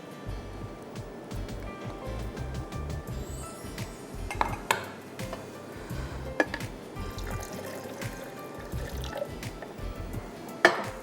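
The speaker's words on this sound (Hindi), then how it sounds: "फिर उसमें हम थोड़ा सा शहद डालेंगे और पानी और बर्फ़।" Honey, water and ice go into a bowl of yogurt for lassi: soft liquid pouring and dripping with scattered sharp clicks and clinks, a few louder knocks standing out near the end.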